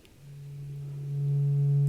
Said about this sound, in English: or the amplitude of this sine wave with this pulse.